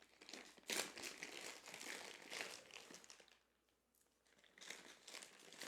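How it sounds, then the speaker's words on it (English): A cough drop wrapper crinkles close up in several crackling bursts, pausing briefly before the rustling resumes. "Sorry for the crackling. I'm going to open up a cough drop here."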